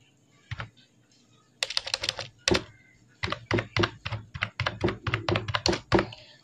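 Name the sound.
typing an Aadhaar number on a computer keyboard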